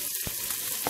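Chopped onion and minced garlic frying in hot oil in a pan, a steady close sizzle with brief stirring scrapes.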